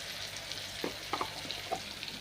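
Cumin seeds and turmeric sizzle in hot oil in a home kitchen, a faint, continuous frying hiss broken by a few soft stirring clicks.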